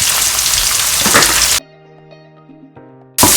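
Onion, shallot and green chili hit hot oil with a loud, bright sizzle. The sizzle breaks off for a short musical interlude, then bursts back in at the end.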